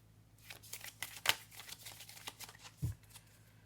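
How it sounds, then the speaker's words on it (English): Tarot cards are shuffled by hand in a series of soft, rapid riffles and slaps, close and quiet, with one sharper snap and a dull thump near the end. "I do shuffle everything on camera as I go"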